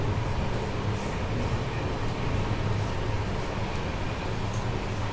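The Naharlagun–Guwahati Shatabdi Express Vistadome train, hauled by an electric locomotive at about 100 km/h, gives a loud, continuous rumble and rushing roar from close by, with no voices heard.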